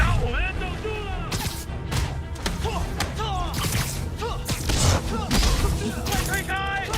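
Rocket fire and explosions in the Marvel's Spider-Man Remastered video game on PS5: repeated thuds, bursts and crashing impacts in quick succession, heard under frequent excited shouting from people talking over the action.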